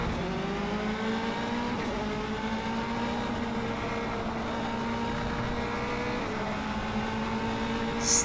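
A Formula 3 race car in Automobilista holds a steady, droning engine note at Laguna Seca, loud and continuous, with the pitch easing and climbing gently as it runs toward the corkscrew.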